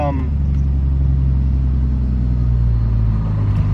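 A Toyota MK4 Supra with a T56 Magnum six-speed gearbox drives easily with a steady, loud low engine rumble and road drone throughout, while someone talks over it.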